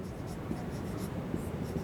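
Pen or chalk writes on a surface in a classroom-style lesson, a soft continuous scratching with small strokes and taps, fairly quiet and steady with no talk over it.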